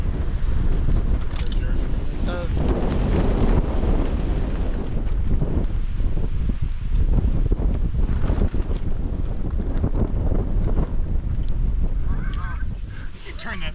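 Steady, loud wind buffets the microphone along the Mount Rogers Loop trail in Grayson Highlands State Park, Virginia, a continuous roar that never lets up, with voices now and then.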